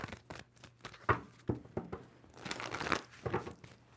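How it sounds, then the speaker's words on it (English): A deck of tarot cards is shuffled with quick crisp riffles, papery slaps and crinkling bursts, close and clear with no talking. "2 more shuffles for Capricorn."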